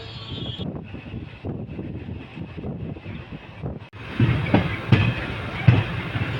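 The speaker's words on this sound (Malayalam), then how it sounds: "ട്രെയിൻ വടക്കാഞ്ചേരി സ്റ്റേഷൻ എത്തിക്കൊണ്ടിരിക്കുകയാണ്." A Kottayam–Nilambur Road express rolls along rails between Thrissur and Shoranur toward Vadakkanchery station, with a steady rumble, wind buffeting and a few sharp rhythmic clacks growing louder near the end.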